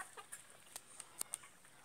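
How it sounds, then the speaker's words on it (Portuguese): Brahma chickens give soft, short clucks and chirps, a scattered series of brief calls at low level against a quiet background. "eu gosto de criar a galinha Brahma"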